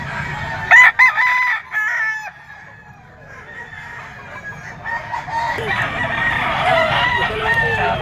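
A Simstone bloodline stag rooster, a young male gamefowl, crows loudly and close at a pet market, one long crow followed by further bird calls amid crowd background noise.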